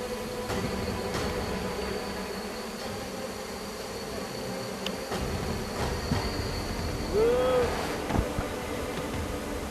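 A dense swarm of about twenty thousand Korean honeybees streams out of a disturbed wild hive in a tree on a remote island, making a continuous buzzing drone broken by a few brief knocks.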